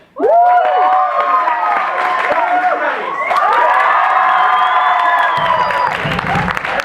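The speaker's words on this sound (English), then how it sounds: "One last clap off." An audience at a student theater show claps and cheers loudly in a clap-off, a dense burst of whoops, shouts and applause rising suddenly and holding strong throughout.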